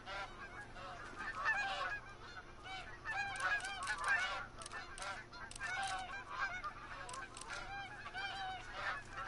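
A flock of geese honk repeatedly in a hunting video game set in the Yukon, with dense overlapping calls at moderate distance that keep up in bursts without pause; no talking.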